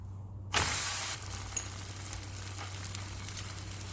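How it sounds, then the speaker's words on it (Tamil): Banana flower adai cooks in ghee on a hot pan. A sharp burst of sizzling starts half a second in, then settles into a steady, close hiss and crackle with no voices. "2 பக்கமும் நல்லா செவக்க வேக விடணும்."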